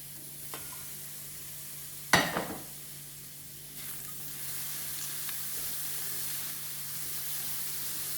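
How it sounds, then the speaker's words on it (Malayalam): Onions are added to hot oil in a pan while making rava upma, setting off a sharp clatter and burst of sizzle, then a steady, quiet frying hiss with a faint hum underneath. "സബോളയും ഇട്ടൊന്ന് വാട്ടാം"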